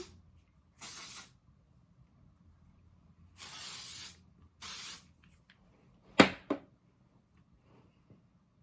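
Three short hissing bursts of spray at intervals, then a couple of brief clicks and taps, with quiet pauses between.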